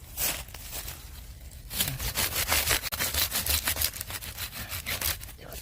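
A branch of a landscape tree is cut with close, rhythmic rasping strokes that quicken into a steady back-and-forth after a brief pause.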